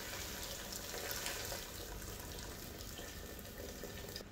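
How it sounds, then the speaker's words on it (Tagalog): Water pours into a cooking pot holding potatoes for pesang tilapia, a steady, faint gushing stream that runs on without pause. "At pagkatapos, lagyan na rin natin siya ng tubig."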